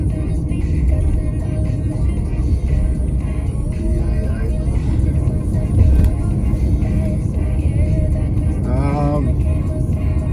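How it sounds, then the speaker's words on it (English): Car heading out of Belgrade onto the Brotherhood and Unity highway, with a steady, loud broadband engine and road rumble running throughout. "Driving out of Belgrade, just entering the highway."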